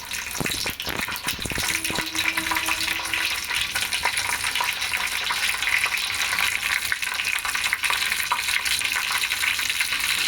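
Whole garam masala spices sizzle steadily in hot oil and ghee in a pan, a dense, continuous frying hiss with a few stirring knocks near the start and no voices.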